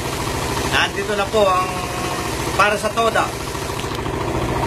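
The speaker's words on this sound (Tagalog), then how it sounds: "ang motorsiklo na tumatakbo sa Daso Water Fuel" A Suzuki motorcycle engine running on Daso Water Fuel, idling with a steady low throb and a few brief revving swells, while someone speaks over it.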